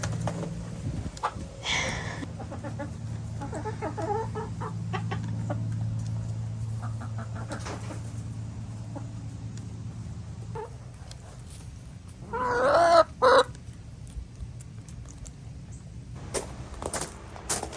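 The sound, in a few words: chickens clucking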